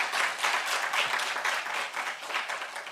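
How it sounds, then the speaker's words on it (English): An audience at a women's day dialogue event gives a steady round of applause, continuous dense clapping, moderately distant and fairly quiet throughout. "Let's give another round of applause to Tato."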